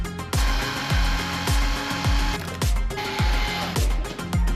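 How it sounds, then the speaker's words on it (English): A drill drives screws through a steel-tip dartboard mount into drywall, with a steady motor whine broken by repeated short thumps about every half second, loud and close, with no talking. "I'm gonna stick these screws through here"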